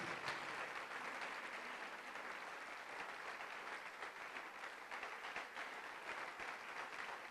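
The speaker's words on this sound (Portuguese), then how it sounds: "Dê uma salva de palmas ao Senhor, bem forte." A church congregation claps in praise, a dense and continuous patter of many hands that stays even throughout, heard at a low, somewhat distant level with no speech.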